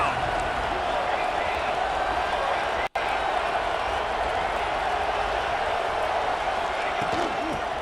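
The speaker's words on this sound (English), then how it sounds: "Guns up, and so is the noise. The crowd electric, trying to help Tech on this third down." Stadium crowd at a Texas Tech football game roaring steadily on a third down, a loud continuous wash of cheering with one brief dropout.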